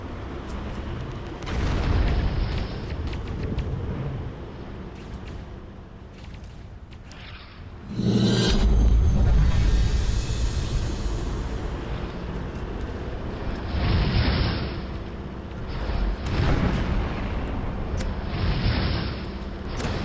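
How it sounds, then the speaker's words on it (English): Booming rocket explosions from the Tanki Online tank game come with a loud surge of rumbling blast noise midway, set against a continuous roaring engine-like drone. "that rocket was 4 inches away from me, and yet I still died to it."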